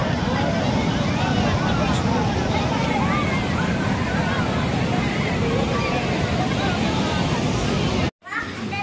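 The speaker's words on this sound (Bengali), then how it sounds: "কিন্তু ঢেউটা তুমি দেখো" Sea waves break on a crowded beach at Digha in a steady, loud roar, mixed with crowd babble and wind buffeting. The sound cuts out abruptly near the end.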